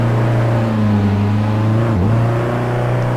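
Onboard engine of a race car in the simSS 3 Series racing sim at the Nürburgring, a loud steady drone holding pitch, briefly dipping as the driver lifts or shifts, then climbing again, no voices.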